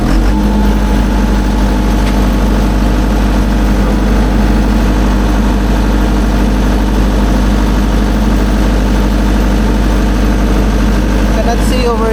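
An 80 kVA containerized generator engine runs at a steady idle, a loud low drone with constant vibration throughout, and someone talks over it.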